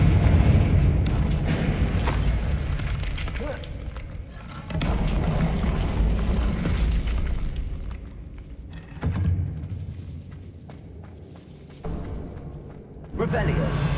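A Confringo fire spell goes off repeatedly in the Hogwarts Legacy video game, producing heavy booming blasts that swell and fade over one another with faint voices in the mix.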